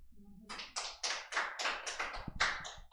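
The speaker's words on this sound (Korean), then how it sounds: "오게 된 우리 윤동이 환영의 박수로 한번" A small church congregation claps in welcome, about ten sharp, distinct claps in a quick, fairly even rhythm, close and alone with no talking over them.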